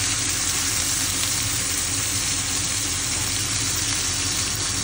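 Garlic, ginger and onion fry in hot oil with a loud, dense, continuous sizzle heard up close, steady throughout with no pauses or voices.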